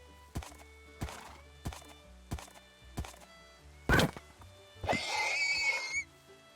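A horse in Minecraft clops with a steady series of hoof thuds, then lets out a loud, rising whinny and neigh, alone and close with no talking.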